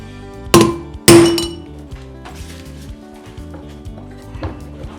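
A hammer strikes a punch to drive out the rear wheel bearing of a Ducati Multistrada 1260 Enduro, two sharp ringing metallic blows followed by quieter clinks and taps, close and loud.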